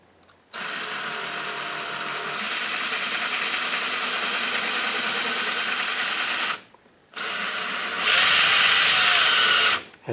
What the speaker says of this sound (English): the reason you drill very slowly is the worst thing you can do is drill, hit a hollow area